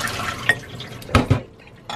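Water draining from soaked oats, a brief gurgling pour with a few splashes and drips, near and fairly soft.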